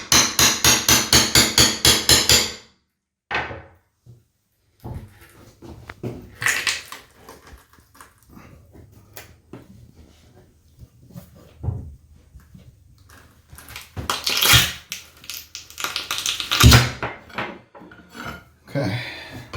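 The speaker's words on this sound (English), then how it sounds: "with the small pry bar, you're going to carefully, without damaging the wall or the cabinet, whatever it's stuck to, or try to just pry it loose" Small pry bar working a vanity top loose from the wall, a rapid burst of hammer-like knocks, then scattered scrapes, creaks and sharp cracks at close range.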